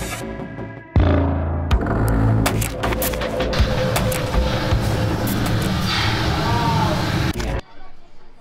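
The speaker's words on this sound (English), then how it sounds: "On the way, the train arrives." A train at the Dream World amusement park in Bangkok rumbles and clatters as it arrives, loud and close with rhythmic rattling and squeals, while people talk over it.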